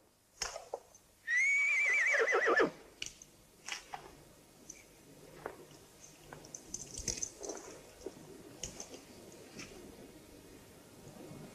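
A horse whinnies loudly for about a second, a shrill descending neigh, followed by quieter scattered rustles and thuds.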